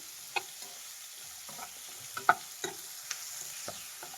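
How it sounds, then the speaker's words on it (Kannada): Tomato, onion, green chilli, ginger and garlic fry softly in a pan for a chicken gravy, with a low steady sizzle broken by scattered clicks of a spoon stirring against the metal, fairly quiet throughout. "ಇಷ್ಟು ಫ್ರೈ ಆದರೆ ನೋಡಿ ಎಷ್ಟು ಚೆನ್ನಾಗಿ ಟೊಮೆಟೊ, ಈರುಳ್ಳಿ, ಮೆಣಸಿನ್ಕಾಯಿ, ಶುಂಠಿ, ಬೆಳ್ಳುಳ್ಳಿ ಎಲ್ಲ ಚೆನ್ನಾಗಿ ಫ್ರೈ ಆಗಿದೆ"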